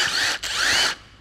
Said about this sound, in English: get a screwdriver or a drill.